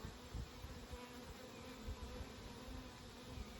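Honey bees buzzing steadily inside a summer hive of nurse bees, a close, continuous drone with no pauses and no voices.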